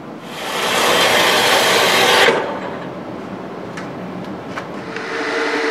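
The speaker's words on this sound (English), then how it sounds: "we're going to cut it off in the bandsaw down to length" A bandsaw grinds steadily through material, cutting it to length, for about two seconds, then stops, leaving a machine running quietly with faint clicks afterward.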